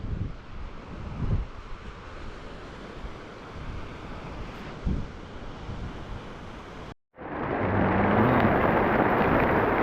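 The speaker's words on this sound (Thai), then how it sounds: "ลมแรงมาก" Strong wind on a boat at sea while night squid fishing off a deserted island roars steadily into the microphone with rumbling gusts, then cuts out briefly and returns louder and harsher.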